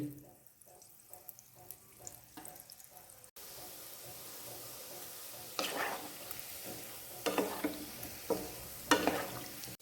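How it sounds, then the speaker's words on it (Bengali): Wholewheat gulab jamun dropped one by one into oil over low-medium heat, a soft background sizzle punctuated by several louder splashing bursts as each ball hits the hot oil. "এবার গোলাপ জামুনগুলো একটা একটা করে তেলে ছেড়ে দিচ্ছি এটা লো মিডিয়াম হিটে ভেজে নেবেন লাল করে"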